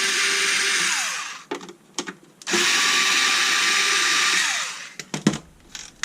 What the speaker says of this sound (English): Seems very noisy, this screwdriver.